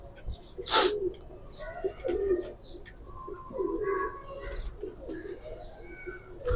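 A green pigeon coos in a few soft, low calls at close range, with bird chirps and light rustling around it and no talk.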